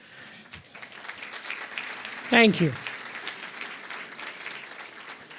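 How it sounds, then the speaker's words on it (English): Steady applause from a luncheon audience at a city club event fills the whole stretch, moderately loud, with someone briefly speaking over it partway through. "He deserves a round of applause for that."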